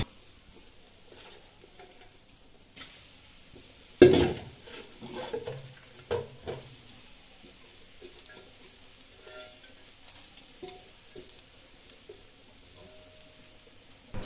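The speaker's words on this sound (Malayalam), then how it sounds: "ഇനി നമുക്ക് നേരത്തെ അരിഞ്ഞു മാറ്റിയ ചീര ഇട്ട് കൊടുക്കാം" Chopped spinach for a Kerala-style stir-fry, dropped into a pan and stirred, with a scraping clatter and soft sizzle against a mostly quiet background.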